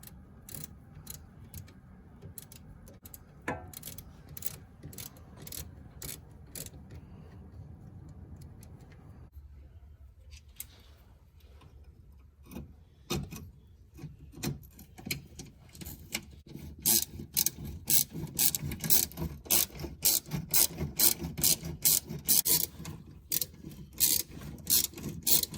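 A ratchet tightening the 8mm bolt on a hose clamp of a Chevy Cavalier or Pontiac Sunfire fuel filler neck, with quick rhythmic clicking bursts close up, getting louder and faster toward the end.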